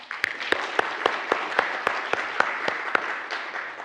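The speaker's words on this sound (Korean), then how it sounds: "한 목사님 한번 일어나셔서 인사하시면 박수해드리겠습니다" A congregation at a school staff worship service applauds as a pastor stands to greet them, a steady, fairly close patter of many hands clapping in an even rhythm throughout.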